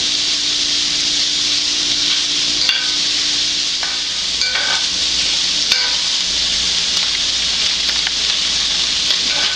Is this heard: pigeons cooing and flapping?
no